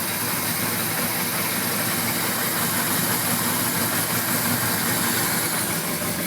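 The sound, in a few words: 1981 Suzuki GS850G motorcycle engine idling with intermittent ticking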